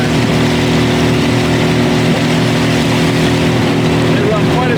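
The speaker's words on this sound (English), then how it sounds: "You can hear the motor opening up good." The outboard engine of a 2020 StealthCraft 14ft Pintail boat roars steadily at high speed, loud and close, with a constant droning hum and water rush throughout.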